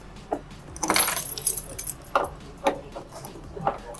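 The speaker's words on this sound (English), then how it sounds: "You will need a small spanner." A small spanner taps and clinks metallically on the gas fitting of a Gasmate portable camping heater, several short irregular knocks close by with no talk.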